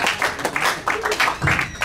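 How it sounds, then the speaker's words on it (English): A church congregation claps together in praise, quick uneven bursts of applause at close range, with a voice faintly mixed in. "Let's clap for Jesus."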